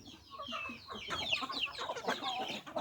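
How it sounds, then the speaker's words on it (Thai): Several chickens cluck and chatter close by in overlapping, busy bursts while being fed, a lively flock sound without talking. "มาให้อาหารไก่กันนะครับ"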